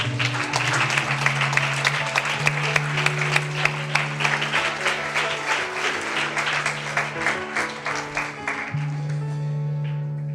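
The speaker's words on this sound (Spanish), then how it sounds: "Aplauda si va a aplaudir." Sustained applause from a large indoor church congregation with steady music underneath, continuing for several seconds before easing off.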